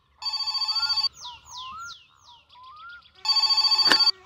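In the My Summer Car game a telephone gives two loud electric bell rings about a second long, with a stretch of chirpy sliding sounds between them and a sharp knock near the end.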